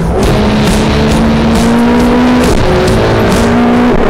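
A sports car's engine roars loudly as it accelerates, pitch climbing through the gears with brief drops at each shift, close and continuous.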